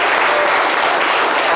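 An audience claps steadily and loudly at a French radio or talk-show taping, a dense continuous applause with no voices over it.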